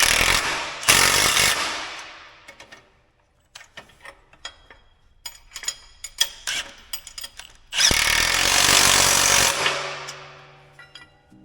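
A power tool tightens bolts on a corn planter in two loud whirring bursts, one at the start and one near the end, with scattered clanks and knocks of metal parts between them.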